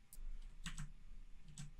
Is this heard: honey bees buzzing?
no